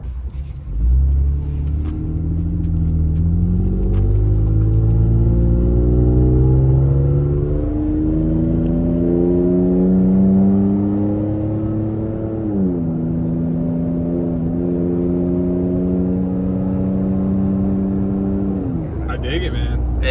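Toyota Tacoma pickup with an aftermarket exhaust from Amazon, heard from inside the cab with the windows up, a deep steady engine drone rising and falling through gear shifts as it accelerates, loud and continuous, with a voice talking briefly near the end.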